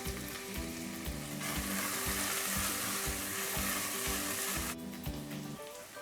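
Turmeric and Kashmiri chili powder masala frying in a pan for stuffed tinda, a steady close sizzle with rhythmic stirring scrapes, loudest in the middle stretch with no talking.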